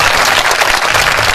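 Thunderous applause from an audience at a Hindi comedy poetry gathering (hasya kavi sammelan), a dense, steady wash of clapping filling the whole short moment with no voices.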